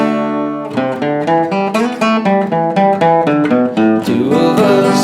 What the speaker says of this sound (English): The second fill sounds like this.